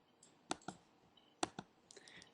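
A computer mouse clicks faintly while working in Photoshop Elements, a few light, close taps in small pairs over a quiet background.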